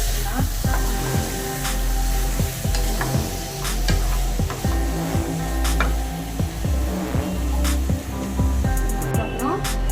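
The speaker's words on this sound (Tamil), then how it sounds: "நல்லா கிளறி விட்டுலாம்." Chicken masala for a spicy chicken peratal fries in a pan while being stirred, with a loud continuous sizzle broken by rhythmic scraping and clinking strokes of a spoon against the pan.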